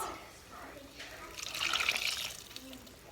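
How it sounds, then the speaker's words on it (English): Water poured from a can into a pot of gandules (pigeon peas) for rice, a short splashing pour that swells for about a second and then fades, with someone talking. "pour maybe half a can. Half a can of water to the Gandules"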